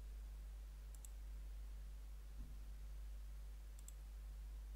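Two faint, quick computer mouse clicks sound about three seconds apart against a steady low hum in a quiet room.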